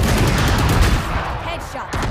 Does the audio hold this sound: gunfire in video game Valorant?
yes